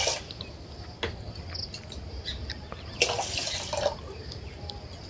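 Vegetables are washed in water in a village kitchen in India, with soft splashing and dripping that swell in the middle and mix with a steady background hiss.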